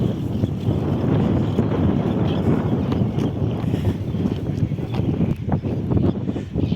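Strong wind buffets the microphone at Caracasbaai beach in Curaçao, a constant loud rumbling roar with gusty fluctuations and no talking.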